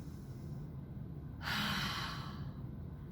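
A breathy mouth exhale during a calming warrior-series workout, a single soft whoosh lasting about a second, close and fairly quiet above a low room hum.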